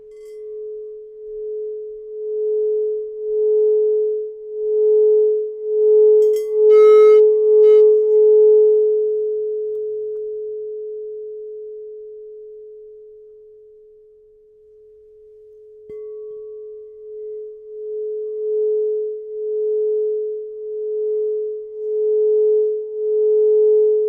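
A pure, sustained singing bowl tone hums steadily with a slow pulsing waver, swelling and fading gently over a long stretch, alone and clear.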